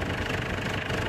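A Ford Everest diesel engine idles steadily close by with its oil cap off, still cold, a loud, even rumble with a rapid knocking pulse and no voices.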